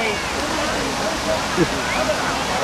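Water cascading down the pillars of an indoor mall water feature, a soft, continuous splashing rush heard at moderate distance while a person talks over it.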